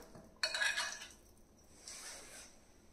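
Sweet potato chaat tossed with roasted cumin in a bowl, a spoon clinking and scraping against the dish in a short burst, then a softer stir, close by with no talking.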